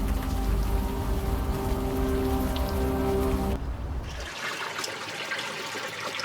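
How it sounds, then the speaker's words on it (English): Steady rain pours in the adventure game Unavowed, a dense hiss that fills the scene, then drops abruptly to a lighter patter of drops partway through, with no voices. "At least the rain is washing away most of the smell."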